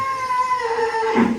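A young calf calls out in one short, drawn-out bleat that rises and then bends into a lower, louder ending, heard close by at a cattle farm during the run-up to a Qurbani livestock fair.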